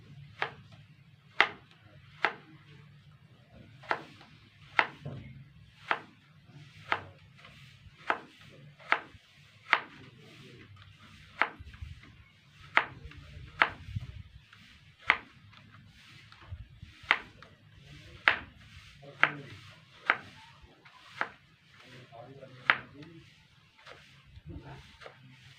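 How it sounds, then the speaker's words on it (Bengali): A knife chops taro stem on a cutting board in a steady series of crisp, woody thuds, roughly one per second, about two dozen strikes in all. The chops are close and distinct over a quiet room. "তারপর ছুরি দিয়ে আবারও এইভাবে ক্রস করেই সমস্তটা এইভাবেই কেটে নেব।"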